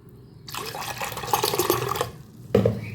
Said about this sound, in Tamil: இன்னும் கொஞ்சம் தண்ணி ஊற்றிக்கிறேன்.